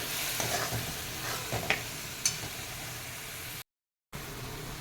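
Green mint chutney is stirred into cooked rice in a pan for a quick green pulao, soft scraping and clattering from the spoon over a low sizzle, a few louder scrapes, and a brief gap of silence near the end.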